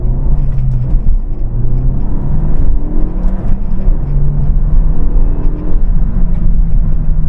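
A Renault Megane 3 RS accelerates hard on the road, its engine giving a loud, steady rumbling drone with rising pitch through the gears, heard from inside the car.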